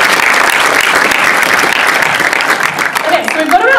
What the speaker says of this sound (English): So a round of applause for yourself, please.